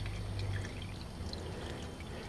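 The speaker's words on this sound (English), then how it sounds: "And we're gonna let that drip all over the place too." Motor oil drains from a 5.7L 350 engine on a 1998 Chevy Silverado, a steady close pouring trickle that runs unbroken with no talk.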